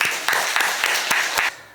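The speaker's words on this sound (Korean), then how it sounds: "여러분 큰 박수로 환영하는 뜻에서 박수 부탁드립니다" A church congregation at a Sunday worship service claps together in a brisk, even rhythm of about six strong claps that stop abruptly, leaving a faint quiet tail.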